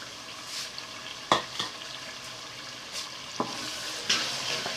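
A spoon stirs blended pepper, garlic, ginger and fresh tomato into a Nigerian fish stew, giving a few scraping knocks and clinks over a steady low sizzle, close and fairly quiet, with no talk.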